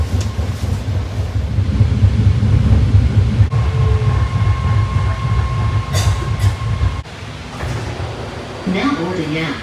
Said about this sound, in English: That's our train we got to get on.